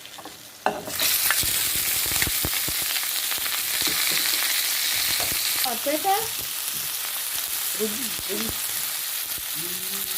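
Onion and pepper hit hot frying oil with a sudden loud sizzle that settles into a steady hiss, broken by stirring clicks and brief spoken remarks.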